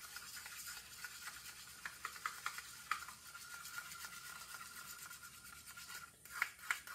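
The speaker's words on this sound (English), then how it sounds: "Put a little thinner in it. Mix her up. Use my popsicle sticks." Popsicle sticks scrape and stir thinned paint inside a cup, a quiet, steady rubbing with a few small taps against the cup walls, close up and without talk.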